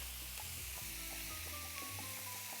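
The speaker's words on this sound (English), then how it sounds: "The garlic is just gonna get cooked for about a minute." Garlic sizzles in a pan for beef ranchero, a constant close frying hiss with a few light clicks of a utensil scattered through it, and no one speaking.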